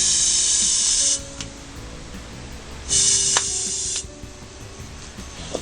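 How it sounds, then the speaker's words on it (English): A can of 3M compressed-air dust remover sprays in two loud, steady bursts of hiss, each about a second long, close by, with quiet gaps of faint room noise between them. "we could use a can of 3M dust remover, which is a can of compressed air"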